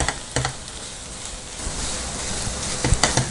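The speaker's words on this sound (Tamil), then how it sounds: "ஒரு 2 நிமிஷம் வரைக்கும் இதே மாதிரி சிம்மில் வச்சுட்டு நல்லா மிக்ஸ் பண்ணிகிட்டே இருங்க" A spoon scrapes and stirs bread burfi with sugar in a pan over a low flame, a dense, close, continuous scraping with a faint sizzle and a few sharper knocks.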